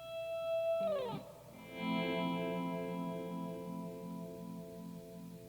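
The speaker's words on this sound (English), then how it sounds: "you hear that pull off from the E." Guitar playing with a pull-off from the E: held notes, a quick descending slide of pitches, then a new chord ringing out with effects-laden shimmer and wavering chorus, close and fairly quiet.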